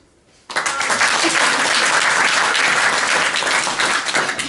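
After a brief hush, a theatre audience bursts into loud, sustained applause at once, a thick wash of many hands clapping without pause in reply to a show-of-hands question at a French stage performance.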